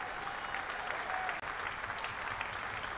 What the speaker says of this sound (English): which will get a good round of applause